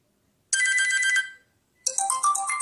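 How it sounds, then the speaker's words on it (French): An Oukitel C8 smartphone plays its ringtone: two bright melodic bursts separated by a short gap, loud and close with no talking. "Notification, son, le son du téléphone"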